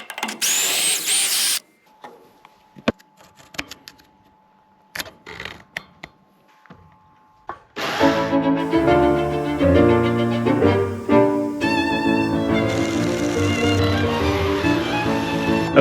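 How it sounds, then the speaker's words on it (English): A jigsaw cuts a deck board on a homestead building site. Scattered clicks and short handling knocks come first, then the saw runs loud and continuous for several seconds with a buzzing, rattling whine. "I just tried the shortcut using the jigsaw, and that is a really messy, unclean cut."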